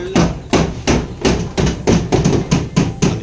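Hammering during house construction: about eight evenly paced, loud, close blows land roughly every 0.35 seconds, each a sharp thud with a ringing tail.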